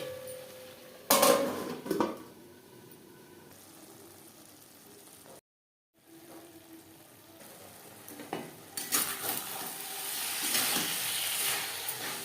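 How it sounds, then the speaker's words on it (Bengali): Spices frying with onion and tomato in a pan over low to medium flame, a soft continuous sizzle with occasional stirring and scraping of utensil against the pan, close, with a brief silent gap midway. "4-5 মিনিট লো টু মিডিয়াম ফ্লেমে পেঁয়াজ টমেটোর সাথে মশলা কষিয়ে নেব।"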